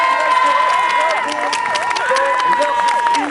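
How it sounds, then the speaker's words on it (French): An audience claps and cheers at a ceremony, a loud, sustained wash of applause with shouts and whistles mixed through it. "on peut tous les applaudir"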